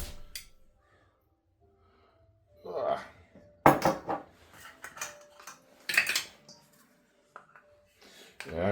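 A metal spoon clinks and scrapes against dishes and a measuring cup while scooping solidified coconut oil in a kitchen, with several short, sharp knocks separated by quiet gaps.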